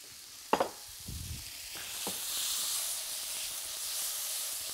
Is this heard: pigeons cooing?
no